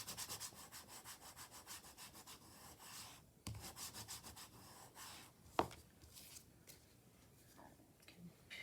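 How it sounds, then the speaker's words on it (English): A folded paper triangle pocket card is burnished with quick, rhythmic back-and-forth rubbing strokes, faint and close, broken by a couple of sharp taps. "Give that a good burnish."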